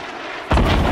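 Gunfire in the video game Fortnite: a single loud, sharp blast erupts about halfway through after a quiet lead-in, followed by a booming tail that rings out to the end.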